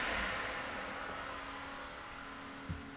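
An electric-converted BMW E65 7 Series rolls forward on its first drive, giving a steady, fairly quiet motor whir and hum that holds level throughout, with a small bump near the end.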